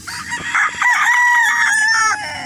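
A bulig gamecock on a farm crows once, a loud close drawn-out call with a rising start and a long sustained middle, heard alone.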